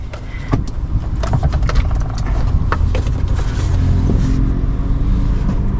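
A car's engine idles steadily in first gear with the handbrake released as the clutch is eased out, a constant low rumble with faint rattles throughout and no speech.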